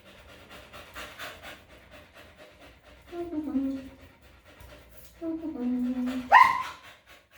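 A dog gives a few short, whiny barks and yips, the loudest near the end, with quiet background sounds between them.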